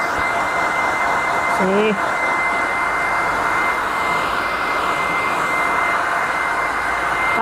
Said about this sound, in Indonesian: Jadinya nih rambutnya mau saya keringkan dulu.